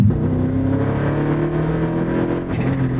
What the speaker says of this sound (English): it's still cold, so it's idling high